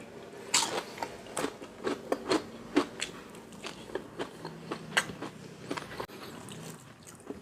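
Crispy Shanghai-style pork eaten with sweet tamarind chili paste gives close, crisp crunching bites and chewing in an irregular series of sharp crackles, with no talking.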